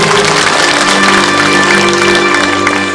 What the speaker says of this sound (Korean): 네, 따뜻한 말씀 감사로 감사의 박수 부탁드리겠습니다